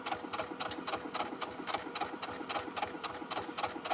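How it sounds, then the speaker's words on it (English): A sewing machine stitching slowly over the gathers of a shirt sleeve, a steady close mechanical whirr with a regular rapid pulse running throughout. "We're going to sew over all these beautiful gathers"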